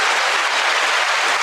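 A live-show audience claps in praise: a dense, steady wash of many hands clapping that stays loud and even throughout, with no talk over it.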